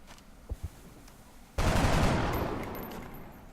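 Gunfire in the strategy game X-Com: Enemy Unknown: a sudden loud burst of shooting that rings out and slowly fades over a couple of seconds, preceded by a couple of faint soft thuds, with no talking.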